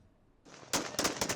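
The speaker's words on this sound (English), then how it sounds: "Gunshots rang out in celebration across Syria's capital on Sunday" Celebratory gunfire in Damascus, Syria: after a quiet lead-in and a rising rumble, several sharp, loud shots crack in quick succession at irregular intervals.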